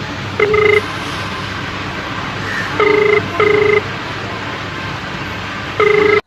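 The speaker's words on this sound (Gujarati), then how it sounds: "હું એને ફોન લગાવું." Telephone ringback tones sound while a call is placed, four short beeping bursts in an irregular rhythm over steady background noise.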